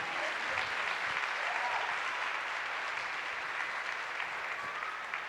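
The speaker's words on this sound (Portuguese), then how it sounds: "aplauda ao Senhor se você crê nisso" Steady applause fills a church congregation after a call to praise the Lord, a dense wash of clapping hands that holds evenly for several seconds without a break.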